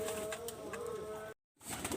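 Pigeons, including fancy breeds like Teddy Golden, coo steadily close by in a loft, a continuous low throaty murmur that breaks off briefly with a short gap of silence before resuming.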